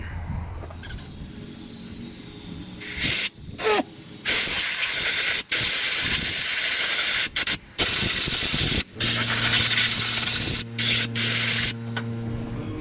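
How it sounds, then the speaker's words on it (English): Compressed air hisses loudly in repeated bursts through the carburetor fuel passages of a 1968 Chevy Bel Air, with short pauses between blasts, all close up. "We'll just try to see if we can air it all out."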